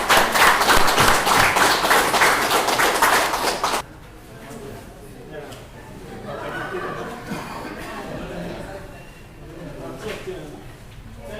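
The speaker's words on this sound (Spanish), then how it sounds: "Un aplauso para ustedes, señores." Audience members at an agricultural insurance training session in Loreto clap together for just under four seconds, loud and dense, then it stops abruptly and quiet talking and shuffling carry on.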